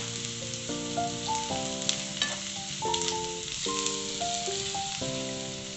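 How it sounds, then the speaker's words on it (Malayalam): Chili, turmeric and pepper powders are stirred into garlic frying in a pan for shrimp kadai, a soft steady sizzle running under a clear, gently stepping instrumental melody. "ആദ്യം നമുക്ക് മുളക് പൊടി മഞ്ഞപ്പൊടി കുരുമുളക് പൊടി എന്നിവ ഇട്ട് നന്നായി മിക്സ് ചെയ്യും"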